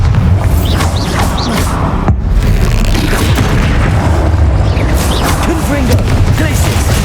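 The Bombarda spell detonates in Hogwarts Legacy as a loud, sustained rumbling blast, dense booming that fills the whole stretch with a brief dip partway through.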